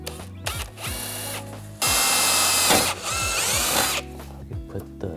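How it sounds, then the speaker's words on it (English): A power drill bores a small pilot hole for self-tapping screws while an air suspension kit is fitted to a Dodge Challenger, sounding as several short whirring bursts that rise and fall in pitch, loudest in the middle, close by with no talk. "I still like to make a little small hole, or drill a small hole"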